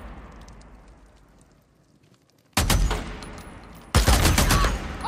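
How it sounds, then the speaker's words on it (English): Gunfire in the video game Days Gone: near-silence gives way to a loud, dense burst of shooting, a brief pause, then a second heavy volley that keeps rattling to the end. "Open fire!"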